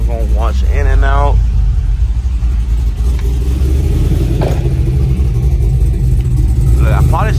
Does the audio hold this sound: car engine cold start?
yes